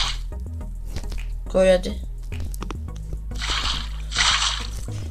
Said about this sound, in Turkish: şu şekilde 3'e 2 bir yer kazıp su kovamıza su dökebiliriz